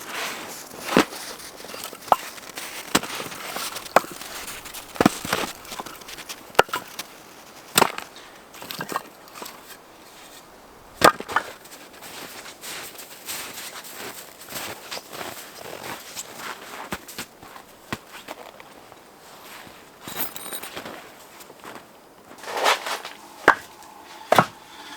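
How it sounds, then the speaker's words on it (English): Firewood handled and carried into a hot tent at a camping spot: irregular woody knocks, clunks and scraping thuds scattered over the stretch, with rustling footsteps between them, fairly close and no talking. "There's still some firewood left here from the last time I camped at this location, so I'm gonna get this inside and get it drying by the wood stove"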